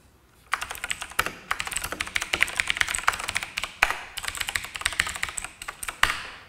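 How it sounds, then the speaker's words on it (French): Quick, uneven bursts of typing on a Razer BlackWidow Ultimate mechanical keyboard with clicky switches, sharp close-up key clacks in irregular clusters with brief pauses. "on entend le bruit, la frappe effectivement qui peut être assez violente"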